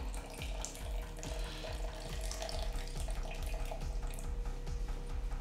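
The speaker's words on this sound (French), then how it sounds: "Et on rajoute 50 ml d'eau." Water pours steadily from a tap into a mixing container, a moderate running splash with soft rhythmic gurgles throughout.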